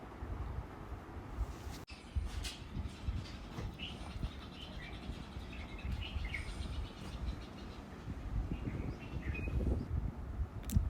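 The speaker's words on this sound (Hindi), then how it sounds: "देखा आपने चिड़ियों की कितनी मधुर आवाज़।" Birds chirp in scattered calls at a hilltop samadhi memorial with a temple built over it in Mewar, faint and somewhat distant over steady outdoor rumble and wind noise.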